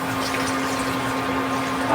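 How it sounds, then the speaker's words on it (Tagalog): Water is poured into a pot of simmering chicken adobo, giving a steady, even rush of liquid over a constant low hum, close and moderately loud. "kaya nagagdagan ko ng kunting tubig"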